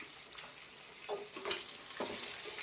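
Food frying in hot oil on a gas stove in a home kitchen, giving a steady bright sizzle broken by a few pops and the scrape of stirring, close and continuous with no talking.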